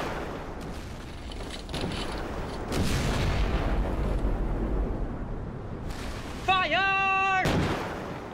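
Ship cannons firing during a naval blockade battle in Forgotten Seas, heavy booms rolling out in bursts over a constant low rumble, with a few sharp louder blasts toward the end.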